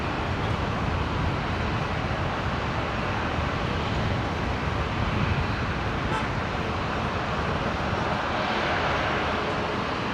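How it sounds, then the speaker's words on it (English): A Dash 8 turboprop at Brisbane Airport, readying for departure, produces a loud, steady broadband engine roar that holds for the whole stretch without easing. "It's like the Dash 8 here, getting ready for a departure very soon."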